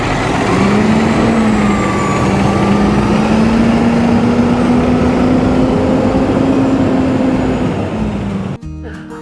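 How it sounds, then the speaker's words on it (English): Garbage truck engine running loudly nearby with a steady low drone and a faint whine, holding for several seconds before dropping off as the truck pulls away. "That was so, so cool learning all about this garbage truck."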